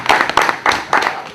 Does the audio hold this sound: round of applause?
yes